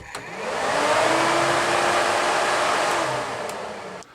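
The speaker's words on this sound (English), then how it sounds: "in the roof of the van, we do have an extractor fan as well" A motorhome's roof extractor fan, in an Autocruise Wentworth, whirs with a steady broadband rush. It spins up quickly, holds an even airy drone for about three seconds, then winds down and cuts off.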